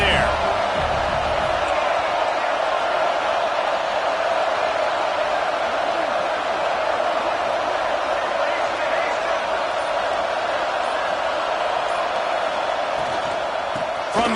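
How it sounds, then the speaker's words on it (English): Stadium crowd in Madden NFL 26 football game roars steadily as a dense, continuous wash of cheering and noise that holds at an even level throughout, with commentary voices over it. "this crowd trying to help keep him there."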